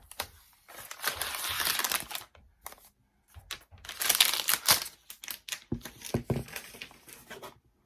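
Packaging on a 2020 13-inch MacBook Pro box is torn away in several rough pulls, producing close bursts of crinkling and ripping separated by brief pauses.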